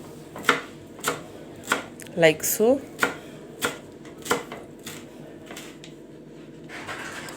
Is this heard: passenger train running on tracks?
no